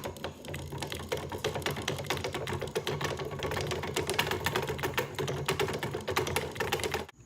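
Fishing line is wound off a spool from a jar fishing kit, producing a rapid, continuous ratcheting clatter of close, busy clicks that runs steadily before stopping abruptly.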